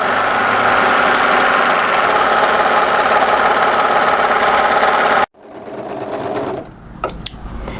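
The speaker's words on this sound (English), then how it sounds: "I'm going to overlock and flat stitch it." A sewing machine overlocks and flat stitches the hem of a tie-front dress in a long, loud, steady run. It stops abruptly, and quieter, intermittent machine sounds and handling noises follow.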